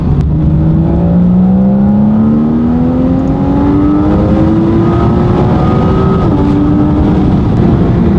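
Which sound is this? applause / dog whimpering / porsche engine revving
porsche engine revving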